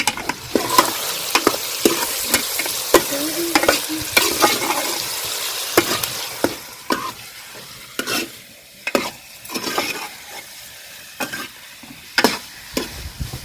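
Chicken stirred into frying curry in a pan: a spoon scrapes and knocks against the pan in a steady rhythm over a soft, constant sizzle, close and clear with no talk.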